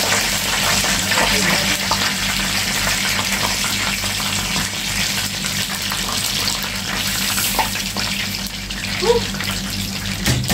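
Chicken fillet frying in hot oil, a steady crackling sizzle with spattering bursts throughout, close and fairly loud, with occasional faint voice nearby.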